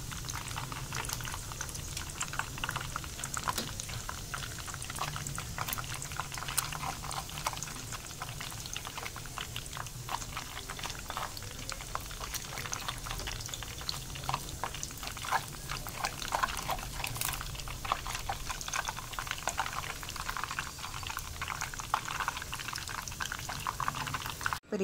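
Noodle-wrapped sausages frying one at a time in hot oil, a dense continuous sizzle and bubbling crackle throughout, close and steady with no speech.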